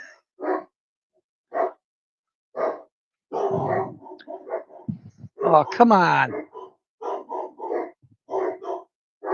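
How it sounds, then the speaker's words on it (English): A dog barks in short repeated bursts, loud and close, with a growly stretch in the middle, while a person speaks briefly between the barks. "No idea what they're barking at."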